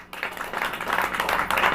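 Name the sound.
congregation clapping in a church service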